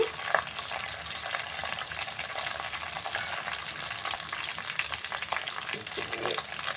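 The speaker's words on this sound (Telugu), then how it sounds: "టమాటా ప్యూరీ చేసుకున్నాం కదండి ఇప్పుడు వేసుకోవాలి చేపల పులుసులోకి" Tomato puree going into a sizzling fish curry, a dense, steady hissing crackle that holds at an even level throughout.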